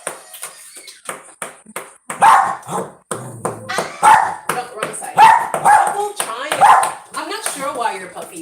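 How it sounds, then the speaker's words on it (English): A puppy barks repeatedly in short, close yips and bow-wows while a person talks over it indoors. "I'm not sure why your puppy's barking at me."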